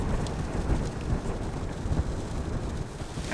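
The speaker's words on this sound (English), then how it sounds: "Let's see if you guys can hear that wind." Steady, heavy wind roaring and buffeting without letup, a dense low rumble close to the microphone with gusty surges throughout.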